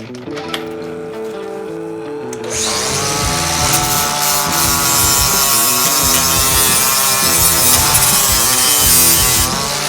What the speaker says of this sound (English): Although these are galvanised, I think I'll have to grind the surface off.